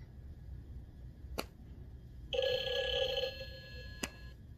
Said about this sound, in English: Mike, you call my phone